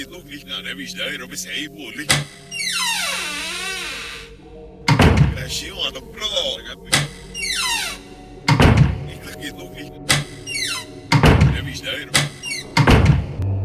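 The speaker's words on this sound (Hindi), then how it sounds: "जैसे ही उसने कमरे का दरवाजा बंद किया" A room door is closed in a Hindi audio drama, heard as several sharp, loud thunks spaced through the passage, with a squeaky sliding sweep near the start and a narrator talking between the impacts.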